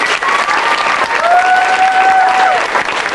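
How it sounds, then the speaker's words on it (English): An audience at a Southeast Texas community awards event applauds loudly and continuously, with a tonal whistle or squeal rising briefly above the clapping. "Can you give them a hand clap?"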